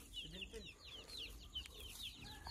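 Chickens clucking and chirping on a small farm in the Philippines, several birds calling in short repeated bursts at moderate distance with soft background noise.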